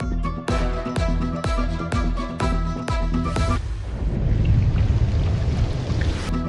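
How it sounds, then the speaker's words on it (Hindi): Torrential rain falls across city neighbourhoods, a broad, loud rushing wash that takes over after a few seconds of sharp, rhythmic musical stings. "शहर के मुख्तलिफ इलाकों में मूसलाधार बारिश।"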